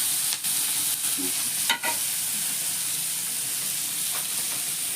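Chopped tomatoes sautéing in a pan for egg bhurji, a steady hissing sizzle throughout with a few brief scrapes of stirring near the start.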